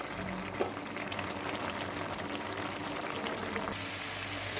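Vegetables with spinach simmering in water in a covered pot, a steady bubbling hiss that runs throughout at close range, with no talking.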